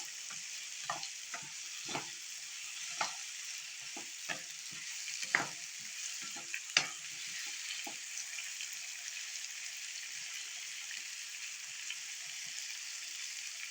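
Ginger, garlic and eggplant sauté in oil with a soft, steady sizzle, punctuated by a series of quick spoon-against-pan stirring knocks that come in bursts, then the stirring stops and only a quiet sizzle remains.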